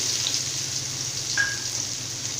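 Finely chopped onion and garlic frying in a pan for ridge gourd usili make a soft, steady sizzle with a faint bubbling crackle and one brief high ping partway through.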